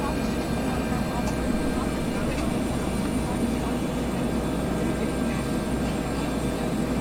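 A Bell 412 helicopter in the X-Plane 11 flight simulator gives a steady, loud engine and rotor drone that holds evenly throughout, with no talk over it.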